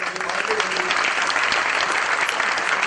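An audience at a tribute gathering for actor Om Puri bursts into steady, dense applause, filling the whole stretch at an even, loud level without a break; a faint voice or tone shows through briefly near the start.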